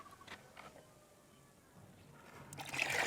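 Water is poured into a container of mustard cake (pina) to make a thin liquid plant fertilizer, a soft, faint splashing and trickling that grows louder and fuller toward the end.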